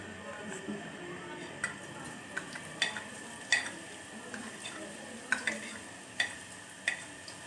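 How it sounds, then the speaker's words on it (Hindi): Chopped garlic frying in hot oil, crackly with scattered sharp pops and utensil clicks, steady and close, with faint talk in the background. "लहसुन को मैंने चॉप किया है, पहले मैं इसको डाल के भून लूंगी अच्छी तरह। ऑयल मेरा गर्म हो चुका है।"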